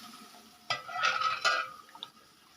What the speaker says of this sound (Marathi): आता मी हे फोडणीला वरण टाकून घेते थोडं थोडं करून